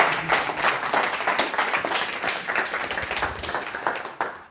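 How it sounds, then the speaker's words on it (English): A live audience breaks into applause at a comedy show, dense sustained clapping from a sizeable crowd that holds steady throughout and starts to thin out toward the end. "Spontaneous applause here will be appropriate."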